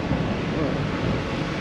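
Strong wind buffets the microphone at a ferry port, a dense, loud roar of gusts and rushing air throughout, with no voices.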